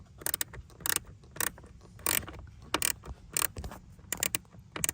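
A hand ratchet fitted with a small T20 bit turns a bolt on a Tesla Model 3, with quick bursts of sharp metallic clicking close to the mic, alone and with short gaps between strokes.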